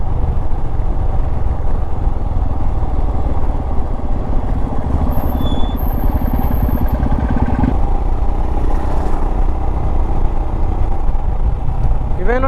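A Royal Enfield Himalayan motorcycle ridden on a road between Ooty and Tenkasi, its engine thrumming steadily and loud up close over constant wind and road noise, with a short beep partway through.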